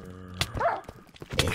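A pet dog in Minecraft gives a couple of short sharp barks or yips amid game noise, including a brief whimper-like pitched cry in the middle, with faint background sounds between.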